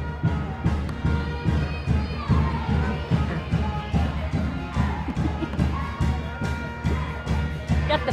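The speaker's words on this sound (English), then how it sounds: "Got the band and the cheerleaders getting the crowd going." A pep band and cheerleaders rouse the crowd at a girls' high school basketball game against Council Grove, with steady rhythmic thumps and drumming under a dense, continuous gym crowd roar.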